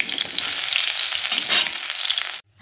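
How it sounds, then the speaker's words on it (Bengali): Helencha greens pakoras fry in shallow hot oil, giving a steady, close, bright sizzle and crackle with a slight surge near the middle, then cutting off abruptly at the end. "ওই তেলের মধ্যেই আমার সব পকোড়াগুলো ভাজা হয়ে গেল"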